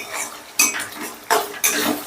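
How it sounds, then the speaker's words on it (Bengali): Spoon scraping and clinking against a pan while yogurt is worked into spices for a katla fish curry, with a few sharp strokes in quick succession, close and fairly loud. "এবার দইটাকে আমি মশলার সাথে বেশ ভালো করে মিশিয়ে রাখবো।"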